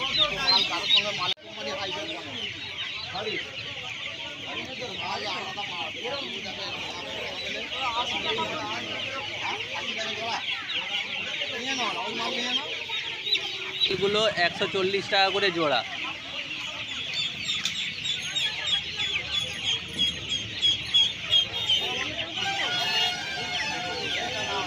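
Chickens and chicks clucking and chirping nonstop at the Uluberia poultry market, with a dense, busy chorus of birds heard up close and someone speaking over it.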